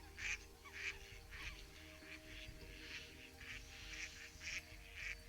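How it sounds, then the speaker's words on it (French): Mallard ducks quack in a rhythmic series of short, evenly spaced calls, faint and distant over a low background hum. "Le colvert est le plus connu et reconnaissable des canards."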